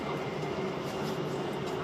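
Steady rumble inside a moving rail carriage in Germany, a continuous dense roar of wheels and car noise with a faint tonal whine, no voices.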